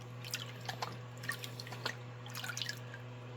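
Water drips and splashes lightly into a gold pan during basement gold panning, a scattered run of small soft plinks over a steady low hum, with no talk.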